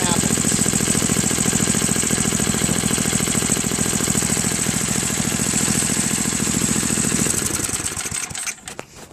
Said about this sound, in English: Well, we know that the engine runs, right?